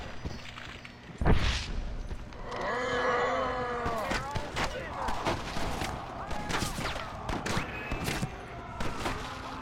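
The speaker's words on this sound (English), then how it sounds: "why are they shooting at me?" Gunfire rings out in the Red Dead Redemption: Undead Nightmare video game, a sharp, loud blast followed by scattered, repeated shots that crack in irregular bursts, with groaning voices mixed in.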